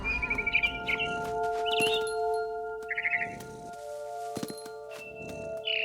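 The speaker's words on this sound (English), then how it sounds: "It was a barn swallow going back to her nest." Barn swallow chirping in What Remains of Edith Finch, several short bright chirp bursts spaced across a quiet game scene with a steady tonal hum underneath.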